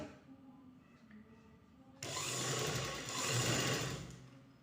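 Sewing machine stitching pleats into a puff sleeve, with seam allowance left on both sides. A faint, quiet hum starts the passage, then the machine runs loud and steady for the remaining seconds, close up.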